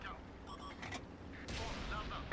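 A tank gun fires in the World of Tanks video game on PS4, with a couple of sharp bursts followed by a louder blast near the end, heard close up with mechanical clatter.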